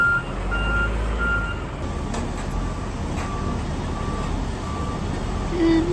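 Forklift backing up with regular, evenly spaced reversing beeps sounding over a loud, rumbling diesel engine idle and outdoor industrial noise near a rail yard.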